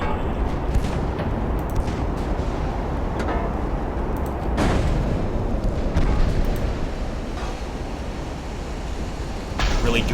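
Naval guns firing in the Ultimate Admiral Dreadnoughts naval battle game, with heavy booming blasts at about 4.6 s, 6 s and 9.6 s over a dense, continuous roar of battle noise.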